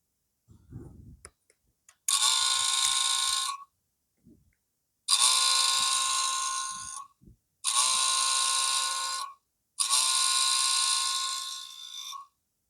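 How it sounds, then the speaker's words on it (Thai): An ABS unit motor on a Yamaha R3 motorcycle whirs loudly in four steady bursts of one to two seconds each, recorded close up. Brief pauses separate the bursts, and a few faint clicks are heard before them. "เดี๋ยวจะให้ฟังเสียงอีก ทีนะครับ เสียงจาก ABS นี่ แหละ"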